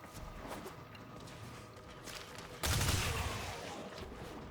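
Heavy-recoil gunfire in Warframe: a low rumble of game ambience, then a sudden loud burst of rapid shots that decays over the last two seconds, with no speech.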